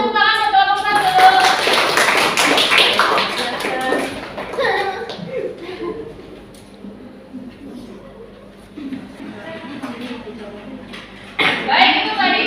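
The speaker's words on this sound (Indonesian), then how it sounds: "Kasih tepuk tangan buat kelompok" A classroom applauds the presenting group, with steady clapping from many hands for a few seconds, then a teacher talks and a brief burst of clapping returns at the end.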